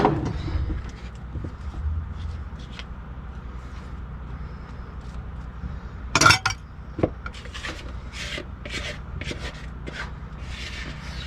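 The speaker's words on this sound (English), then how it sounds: "Well, I should get my scraper out and scrape this." A scraper drags around a mixing bowl of banana bread batter in a home kitchen, giving soft, intermittent rubbing and scraping strokes with a sharper clatter partway through, close and fairly quiet.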